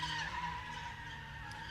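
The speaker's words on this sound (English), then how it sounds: "you can hear him clutch kicking that thing" A Mazda Miata drift car at a drift pit test-and-tune day, tires skidding in a long continuous screech with engine roar and clutch kicks, loud and steady throughout.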